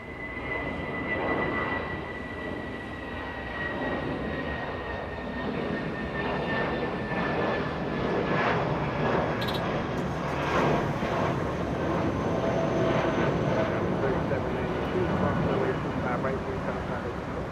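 A Spirit Airlines Airbus A319 airliner, about 15 years old, moving at Los Angeles International Airport at night, its jet engines giving a steady broadband roar with a faint whine that holds for the whole stretch.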